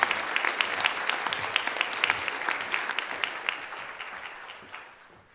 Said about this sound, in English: please give her again a big round of applause